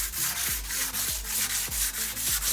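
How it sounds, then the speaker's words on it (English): Sanding epoxy countertop edges by hand with 220 grit sandpaper: steady back-and-forth rubbing strokes, about two per second, close and fairly quiet. "take some 220 grit sandpaper and just kind of just sand down any chunks that might be sticking up"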